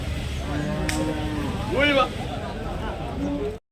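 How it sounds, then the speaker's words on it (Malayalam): An Ongole bull lows once, a rising drawn-out call at a livestock market in Payyanad, Manjeri, standing in a vehicle amid crowd noise and background chatter. "ഓങ്കോൾ കാളാട്ടത്"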